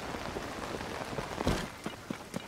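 Rain falls in Zelda: Tears of the Kingdom as a soft, even patter of game weather, with scattered sharper droplet hits breaking through the steady hiss, no voices present.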